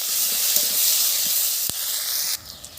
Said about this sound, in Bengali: আর দিয়ে দেব চিড়ে রাখা কাঁচা লঙ্কা। হালকা করে একটু ভেজে নেব।